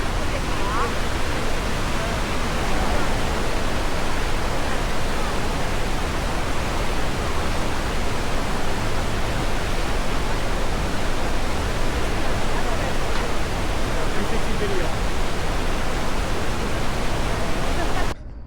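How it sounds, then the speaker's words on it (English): Roaring waterfalls at Iguazu Falls in Argentina, a loud, unbroken wall of rushing water filling the whole scene, with voices speaking over it. "Like 270 some waterfalls, all in the same place."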